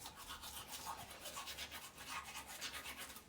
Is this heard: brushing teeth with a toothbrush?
yes